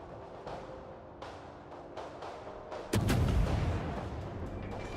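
Battleship guns in a naval video game fire a deep, heavy boom partway through, followed by a sustained low rumble over steady background game noise.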